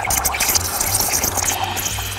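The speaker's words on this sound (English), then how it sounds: "Gonna just purge the built up water" A Breville espresso machine's steam wand purges built-up water before steaming milk for a breve cappuccino, giving a steady, loud hissing spray with watery sputtering that runs unbroken and close throughout.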